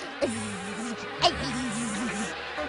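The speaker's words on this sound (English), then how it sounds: "you've all been busy little bees, haven't you?" Cartoon bees give off a steady, wavering buzz at close range, with a couple of brief sharp accents over the drone.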